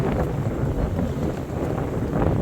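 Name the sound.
strong wind on the river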